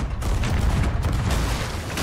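Booming cannon blasts and gunfire in the pirate ship game Sea of Thieves, a dense burst of heavy, loud impacts over about two seconds with no talking.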